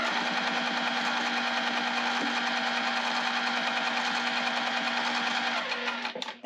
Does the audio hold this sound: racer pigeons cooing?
no